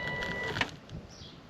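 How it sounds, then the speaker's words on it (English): A caravan motor mover's electric motor runs with a steady whine and a faint mechanical hum, with a higher tone rising near the end. It is close, moderately quiet and heard alone without speech. "So motor mover's on, handbrake off."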